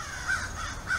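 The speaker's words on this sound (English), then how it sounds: "You hear the crows?" Crows or ravens caw twice in a park, harsh calls a little way off over faint background hum.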